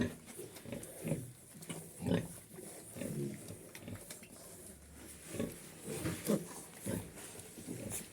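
Piglets in a pigsty grunt in short, uneven bursts after being given water, several low snuffling grunts close by over quiet background, no talk.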